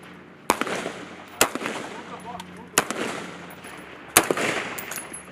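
Rifle fire at an army best warrior shooting competition: four sharp shots spaced about a second apart, each with a ringing outdoor tail, over faint background noise and distant voices.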